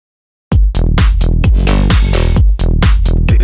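Tech house mid bass synth loops its main riff in a steady, punchy rhythm: repeated short, loud plucked bass notes with quick decays, filling the whole stretch after a brief silence at the start.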